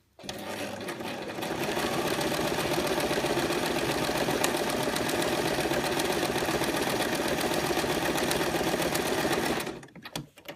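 A sewing machine fitted with an overcast foot stitches steadily at high speed for several seconds with a rapid, even whirring rattle, then slows and stops.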